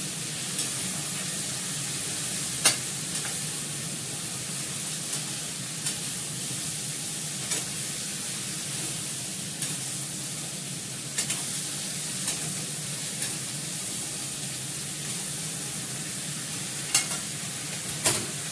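Food fries in a kadai after salt is added, a steady broadband sizzle running the whole time with faint scrapes and clicks of stirring scattered throughout, no voices.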